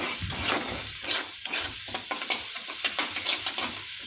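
Spices frying and being stirred in a pan for a vegetarian dish, with close, steady sizzling broken up by repeated scraping stirs at an uneven rhythm and no voices.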